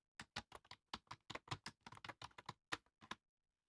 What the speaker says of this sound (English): I'm going to type in guitar jewelry there too